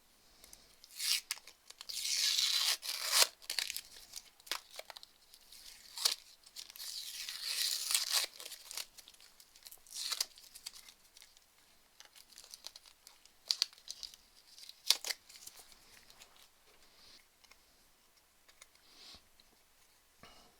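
Protective backing film is peeled off a 3/16 inch acrylic sheet for a Raspberry Pi case base, giving close, crisp crinkling and tearing in irregular bursts that fade to quieter rustles over about twenty seconds.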